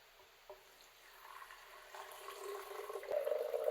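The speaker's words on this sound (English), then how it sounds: "This pitcher doesn't like it if I pour too fast" Filtered water pours steadily from a pitcher into a blender, its gurgle swelling louder and brighter as the flow builds, close up and without any talking.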